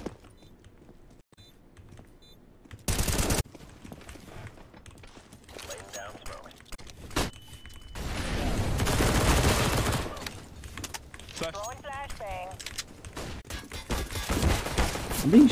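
Gunfire in a Counter-Strike match rings out as a sharp early burst, then a longer dense volley of shots, loud and close, while players talk over it.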